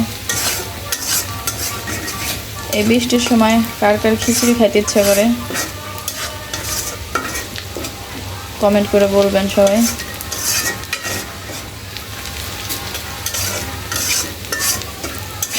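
Onions frying in a pan for khichuri while being stirred, a steady close sizzle with scraping spatula strokes; someone speaks over it in bursts.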